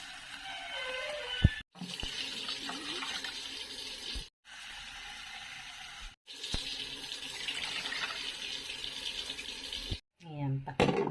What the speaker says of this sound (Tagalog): 2 baso lang pala ng tubig na naman lalagay ko.